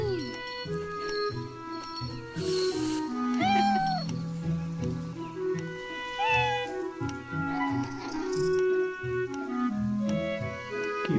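A cat meows repeatedly in a cute indie video game, several short rising calls set over steady game music with small tinkling and chiming effects throughout.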